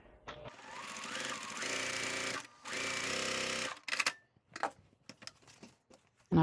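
A sewing machine stitches quilt pieces together in long whirring runs, loud and close, then stops and gives way to short bursts and clicks of handling.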